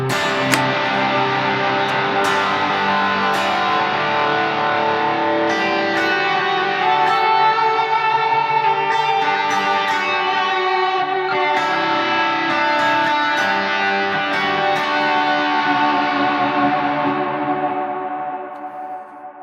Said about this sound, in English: It's called lead, which is essentially the Timmy and the Klon stacked